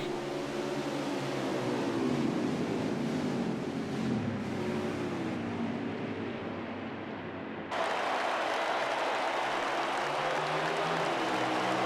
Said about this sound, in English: You hear the roar of the engines going into turn number 1.